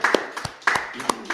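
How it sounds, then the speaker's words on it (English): A group clapping hands in a loose, repeated rhythm of sharp close claps, about a handful in quick succession, while people talk alongside them. "Everybody clap it up."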